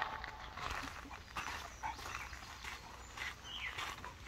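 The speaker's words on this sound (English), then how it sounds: "this is a super confident dog, pretty fearless" A confident dog on a light leash works a rubble pile, giving faint, repeated sniffing bursts and soft whimpers against a low outdoor background.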